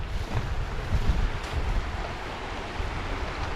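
A wide, shallow river rushes over many stones on an autumn hike in the southern Hammastunturi wilderness of Lapland, a steady broadband roar of flowing water close by with no talk.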